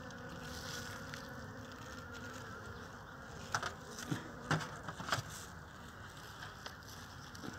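Bees hum steadily around a weak springtime hive being fed pollen and honey cake. The buzzing is soft and continuous, with a few light knocks and clicks close by.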